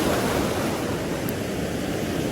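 Sea waves breaking on the shore during shore fishing, a continuous loud wash of surf close by with no pauses, alone without voices.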